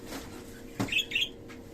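Cockatiels in a home balcony breeding coop give a few short, bright chirps, with a soft flutter beforehand, fairly faint against a quiet room background.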